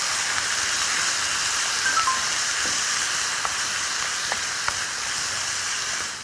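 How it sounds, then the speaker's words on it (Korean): Onion frying in a pan for a spicy octopus bibimbap, with a steady broad sizzle throughout and a few faint clicks of utensils, close and continuous with no talking. "먼저 거기에다가 양파를 먼저 넣어서 양파를, 볶아주세요"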